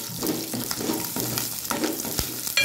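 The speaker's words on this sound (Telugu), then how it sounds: "వెల్లుల్లి రెబ్బలు కూడా ఫ్రై అయినాయి" Garlic cloves fry in hot tempering oil alongside chana dal, urad dal, cumin and mustard seeds, giving a steady close sizzle with crackling pops and the occasional scrape of a stirring spoon.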